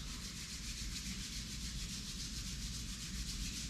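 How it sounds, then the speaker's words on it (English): Palms rubbing together during a yoga session, a steady, close, continuous brushing friction with even loudness throughout and no talking. "Rub your palms"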